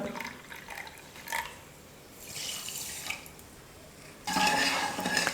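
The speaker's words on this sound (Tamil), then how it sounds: "இதே கப்பில் 3/4 கப் அளவுக்கு தண்ணி சேர்த்துக்க போகிறேன்." Water poured into a pan of sugar while making ghee Mysore pak, a soft splashing pour in short bursts, close and moderately quiet, with a louder stream near the end.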